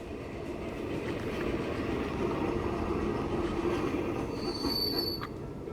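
Freight train running in the railway video game Transport Fever 2, a loud sustained rumble of rolling wagons with metallic wheel squeal rising near the end, steady and close, no talking.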